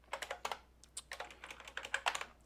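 Fast typing on a computer keyboard, a busy run of sharp, close key clicks in uneven bursts with short pauses, alone without talk.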